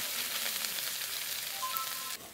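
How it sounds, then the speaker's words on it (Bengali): Spices, including ground coriander paste and green chili paste, fry in hot oil with a soft, steady sizzling hiss and faint stirring, quiet and even until the sound drops away abruptly near the end. "মশলাগুলো তেলের মধ্যে ভালো করে নেড়ে নিয়েছি।"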